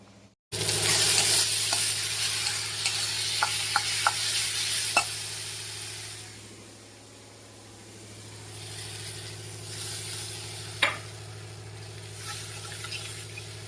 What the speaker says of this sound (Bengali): ভালো করে ঝালটা কষিয়ে নেবো